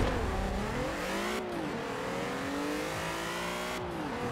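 A Nissan Silvia on a drag run revs hard through the gears with early short shifts, the engine note climbing, dropping briefly at two quick gear changes, then climbing again, loud and continuous.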